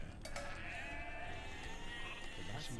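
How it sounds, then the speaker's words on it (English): Sheep bleating in Age of Empires II during a shepherd-dispute minigame, two short bleats near the start over a steady game ambience with a softer bleat later. "We need to gather 12 sheep before the enemy does."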